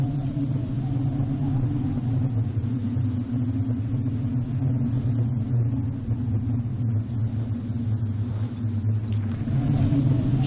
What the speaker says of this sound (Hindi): तूफान है, हमें कहीं पनाह लेनी चाहिए।